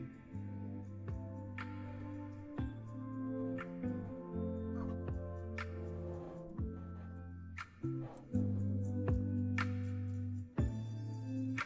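A mellow beat with bass notes and percussion hits washed in exaggerated, lingering reverb, so the sounds blur together into a spacious, echoing tail.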